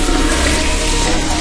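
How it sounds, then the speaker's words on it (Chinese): Water running from a faucet in a public subway toilet in a horror video game, a steady close rushing stream with no break across the short stretch. "我们现在要把这个水龙头给它关一下啊"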